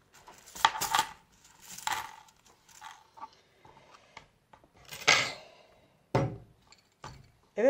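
Coins emptied out of a knitted paper coin purse onto a surface, several bursts of clattering metal jingles separated by quieter handling sounds, close and without speech.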